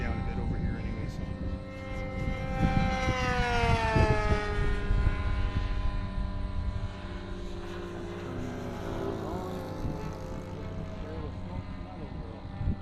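A Mustang airplane flying a lap before landing, its engine a continuous droning hum whose pitch swoops and shifts as the airspeed changes, fairly loud and close.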